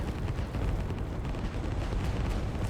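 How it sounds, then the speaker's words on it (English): Artillery fire in the strategy game Line War, a dense, continuous low rumble of overlapping distant explosions, steady and unbroken, heard fairly faint throughout. "that's a lot of artillery"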